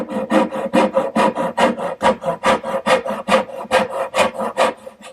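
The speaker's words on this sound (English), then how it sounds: "Now I'll finish cutting out my spinner, making the angled cuts with my little dovetailing saw." Small dovetail saw making angled cuts in wood to shape a spinner for a harvest table: a fast, steady run of close, rasping back-and-forth strokes, about four per second, with no voices.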